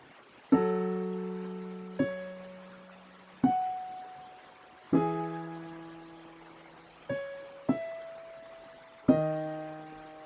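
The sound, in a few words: organ playing a song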